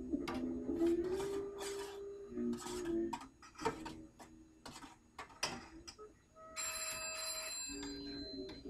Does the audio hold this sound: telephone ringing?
yes